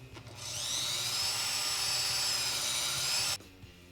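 A power tool cuts metal with cutting fluid applied, a high whining grind rising in pitch and holding steady for about three seconds before stopping abruptly.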